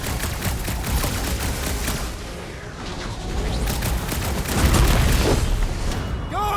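Gunfire during a chaotic battle in Guardians of the Galaxy, with rapid repeated shots and booming impacts layered densely over a continuous wash of combat noise, loud throughout.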